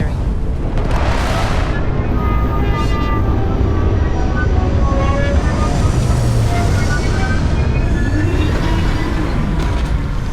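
A spaceship lands in the video game Starfield with a loud, sustained engine roar and rumble, thrusters whooshing steadily throughout while a synthetic voice speaks briefly.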